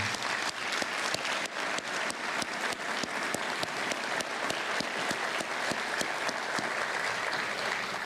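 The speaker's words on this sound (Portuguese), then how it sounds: "a quem eu peço uma salva de palmas" Sustained applause from an audience at a Brazilian government launch ceremony for the new FGTS and PIS/PASEP release, dense steady clapping that holds at an even level for the whole stretch with no talk over it.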